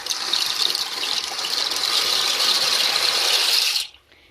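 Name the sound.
dry pasta shells tossed into pot of water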